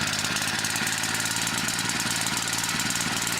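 A wood-gas powered generator engine runs steadily throughout, a loud, continuous mechanical drone with a fast, even knocking pulse and no pauses.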